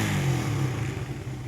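Motorcycle engine idling with a repaired ignition coil, a steady low rumble close by that holds a fairly even pitch and dips slightly toward the end, with no talk over it.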